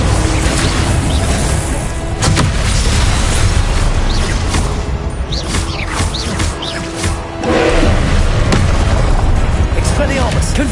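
Repeated blasting explosions from the Confringo spell in Hogwarts Legacy, dense booms and crashes layered with busy combat effects, continuous and loud throughout.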